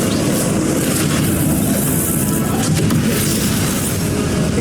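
Blasting curse explosions from the Hogwarts Legacy wizard duel, a loud sustained roar of booming blasts and rumble filling the whole stretch with no pauses.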